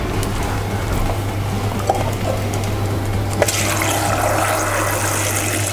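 Tap water runs steadily into a kitchen sink or bowl while vegetables are rinsed for a pork and eggplant curry stir-fry meal, a continuous rushing splash with a brief clatter partway through.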